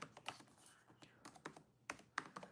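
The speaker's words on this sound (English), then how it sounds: "already typing it in." Fingers tap out a run of keystrokes on a computer keyboard, quiet, close and uneven, with a few sharper clicks standing out and brief pauses between bursts.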